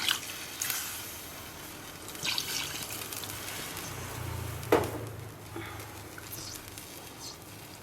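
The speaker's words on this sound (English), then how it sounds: "Just add enough water to just kind of mostly cover them." Water runs and splashes steadily into a cooking pot holding chicken for soup, with a few clinks and a brief louder splash midway, fairly close.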